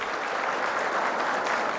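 Steady applause from an audience at a farmers' seminar, a dense even patter of many hands clapping throughout with no break and no talk over it.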